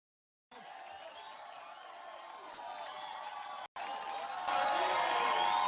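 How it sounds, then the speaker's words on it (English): Studio audience applause and cheering from a Colbert Report segment, played back at low volume, a steady broad wash of clapping and crowd noise that swells louder toward the end after a brief dropout. "I want to thank you for singling me out for your applause"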